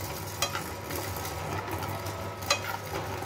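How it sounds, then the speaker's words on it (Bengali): Mustard seeds being stirred in a frying pan for amla pickle, a steady soft sizzle with a couple of sharper scrapes of the spoon against the pan. "এবার সর্ষেটা একটুখানি নাড়িয়ে নেব"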